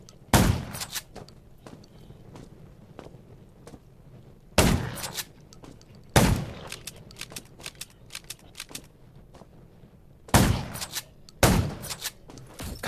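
Sharp gunshots in the video game Garena Undawn ring out one at a time with long gaps between them, alongside a scatter of quieter clicks and rustles.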